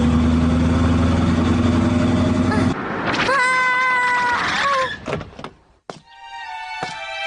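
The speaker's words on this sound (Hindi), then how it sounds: "म्याऊ, म्याऊ, म्याऊ, म्याऊ।" A cartoon cat meows in a string of high, wavering cries after a loud engine-like drone stops abruptly, followed by thumps and more meows.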